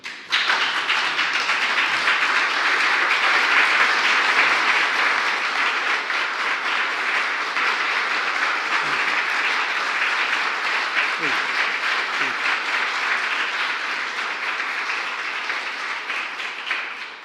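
An audience welcoming President Joe Biden breaks into steady, full applause that holds for about seventeen seconds, dense clapping throughout with faint scattered voices underneath, easing slightly toward the end.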